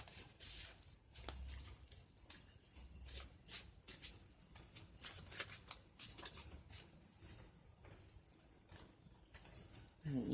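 Stiff oracle cards being shuffled, a continuous quiet riffling and flapping with soft papery slaps and crinkles repeating for about ten seconds, close up.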